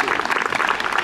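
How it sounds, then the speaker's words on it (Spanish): Brief burst of audience applause at a regional regatta award ceremony in Castilla-La Mancha, a dense, even patter of clapping hands with voices mixed in. "Venga, un aplauso para la federación que nos ha ayudado con la comunidad."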